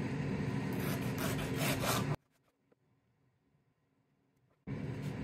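A knife cuts through washed leek on a board with a rough, scraping rasp, followed by quiet, then another cutting stroke begins near the end.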